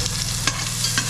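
Onion, garlic and ginger sizzle steadily in a hot pan, a continuous close frying hiss with soft stirring scrapes, no voices.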